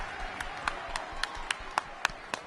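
A crowd at a girls' basketball playoff game claps with steady rhythmic beats, about one clap every quarter second, over a dense background of cheering and murmur in an indoor gym.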